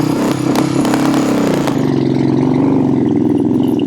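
Royal Enfield Bullet motorcycle engine idling close by on a farm, a steady low thumping beat that runs continuously, with a few sharp clicks and knocks near the start before it settles into an even chug.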